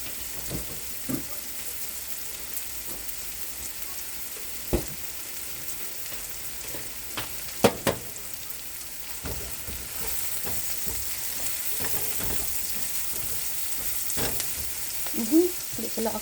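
Red onion frying in a pan, a steady sizzle broken by scattered scrapes and knocks as it is stirred, alone and fairly quiet.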